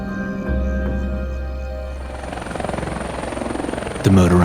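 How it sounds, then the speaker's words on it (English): Helicopter rotors hover overhead in a rescue scene, a steady low thrum with a rhythmic chop that grows more pronounced, ending in a brief louder mechanical burst. "The motorized helicopter hoist brings me up to the hovering aircraft."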